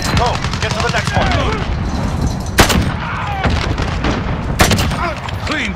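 Rapid video game gunfire, a steady stream of shots with two sharper, louder reports standing out, heard up close and continuous.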